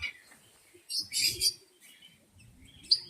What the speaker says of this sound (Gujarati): લવ બર્ડ્સ, ફિંચ